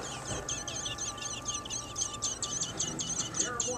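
Baby birds in a nest chirp rapidly and insistently as the mother feeds them, a quick run of high, evenly spaced peeps close by over a low background hiss.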